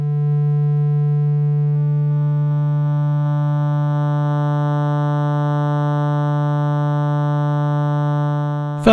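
A Roland S-1 synthesizer oscillator playing a hand-drawn waveform with spiky dents: one sustained, loud, steady buzzy tone rich in overtones, with extra upper partials fading in over several seconds before a click ends it.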